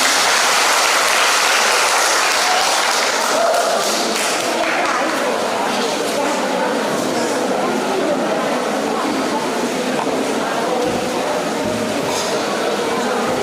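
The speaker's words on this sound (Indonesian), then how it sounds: "Tepuk tangan dulu untuk 3 Dewan Juri" Audience applause for the three judges at a church choir competition, dense, sustained clapping from a large crowd that fills the whole stretch at steady loudness.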